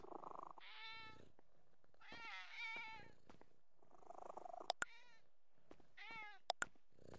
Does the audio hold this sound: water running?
no